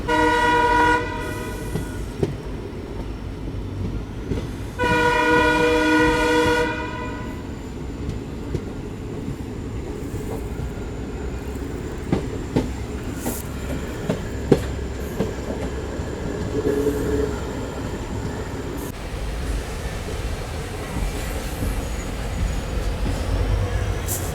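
A passenger train runs through the Thar Desert toward Pokhran, heard from inside a general coach, with two loud blasts of its horn early on over a steady rolling rumble and rhythmic clatter of the wheels.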